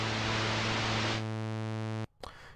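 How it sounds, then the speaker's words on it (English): Pink noise test signal from Trooper lighting software plays loud and steady, shifting partway into a tonal, harmonic buzz before cutting off abruptly, followed by a brief faint noise. "you have your pink noise."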